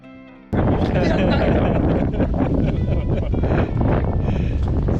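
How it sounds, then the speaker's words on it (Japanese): Wind rushes over a sailing yacht heeled about 30 degrees in 10 to 12 knots of apparent wind. A loud, constant buffeting roar begins abruptly and keeps on without letup. "見かけの風は10から12ノットになっていました"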